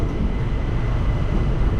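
Train running through mountain tunnels on the Guruvayur to Tenkasi line, a loud, dense low rumble with steady roar, continuous and close.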